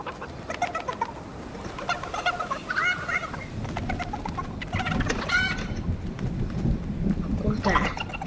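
Game chickens cluck repeatedly over a busy background, with a person talking throughout.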